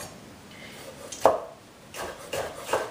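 A knife chops vegetables on a cutting board for crawfish fritters, producing a few sharp, separated knocks, close and fairly distinct against a quiet room.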